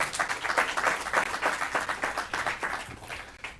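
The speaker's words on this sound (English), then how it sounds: "Can you give them a round of applause as well?" Audience claps at a business summit, a lively round of applause with distinct individual claps pulsing through a moderately loud, uneven patter that eases slightly toward the end.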